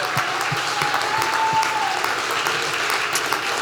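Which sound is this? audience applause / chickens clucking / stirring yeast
audience applause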